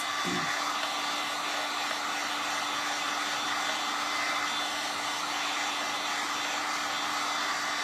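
A heat tool blows hot air over a refurbished cross and frame craft piece, a steady close whooshing drone that holds unbroken at an even level.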